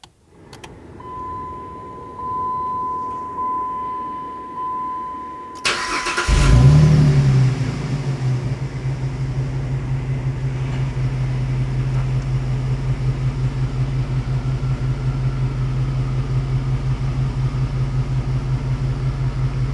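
A Jeep Liberty starts by remote starter: after a quiet stretch with a faint steady beep, the engine cranks, catches with a brief rev and then settles into a loud, steady idle close by.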